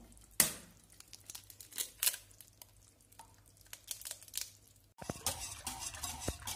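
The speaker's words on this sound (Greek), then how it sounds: "Ανακατεύω εγώ με το σύρμα." Wire whisk stirring melted butter, warmed milk and an egg in a pot, producing soft scraping and light metallic taps at an uneven pace, with a sharper clink near the start.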